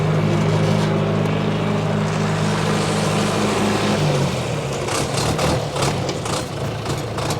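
A 1979 John Deere 310A backhoe loader's 62 HP engine runs steadily with a low, even rumble, close and loud, no talking and no break throughout.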